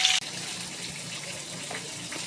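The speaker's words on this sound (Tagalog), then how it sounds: "Lagyan natin siya ng konting tubig." Water pours steadily into a cooking pot of adobo, a continuous splashing gush that carries on evenly after a brief louder start.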